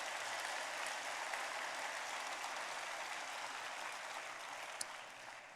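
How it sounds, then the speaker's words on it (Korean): A church congregation gives steady, even applause that comes across a little distant, holding for several seconds and easing slightly near the end. "그렇다고 인정되면 박수 한번 보내줘요"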